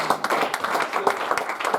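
Church congregation clapping to acclaim the Lord during a Bible study, a steady patter of many hands with a voice faintly mixed in.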